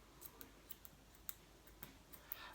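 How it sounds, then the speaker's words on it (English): Scissors snipping through a fabric sock, a series of quiet, sharp clicks spaced irregularly, close by and faint with no talk. "you just get your scissors and you cut up the sock like this"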